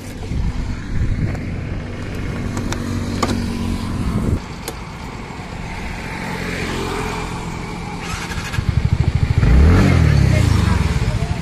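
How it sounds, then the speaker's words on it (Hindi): A TVS Ntorq 125 scooter's engine starts and runs, close and loud, with clicking and cranking early on, then a steady idle that swells into a revving burst near the end. "तो आपने देखा दोस्तों स्कूटर स्टार्ट हो चुका है।"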